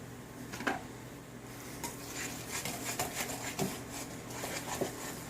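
Cinnamon roll dough is whisked in a bowl, the whisk clicking and scraping against the sides in an irregular, fairly close rhythm with soft wet squishing.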